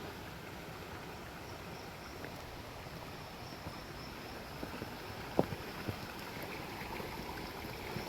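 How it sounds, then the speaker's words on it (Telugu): Stream water flowing between rocks below a waterfall in the Western Ghats, a quiet, continuous gurgling wash with a few faint clicks and knocks toward the end, heard alone without any speech. "చూడండి వాటర్ ఎలా పోతుందో"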